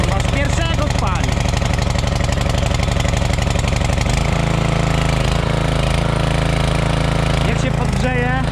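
A lawn mower engine idles close by with a steady, loud chug, its pitch briefly dipping and settling partway through.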